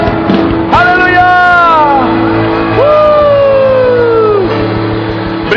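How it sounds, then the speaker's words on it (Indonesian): A church congregation at a worship service cheers, with loud rising and falling whoops and shouts over a steady crowd roar, rather than clear clapping. "Berikan tepuk tangan bagi Tuhan Yesus."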